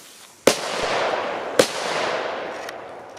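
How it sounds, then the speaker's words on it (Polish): Two sharp firecracker bangs about a second apart, each followed by a long crackling, hissing tail of small pops, close and loud outdoors with no talk. "Spoko petardki, moi drodzy."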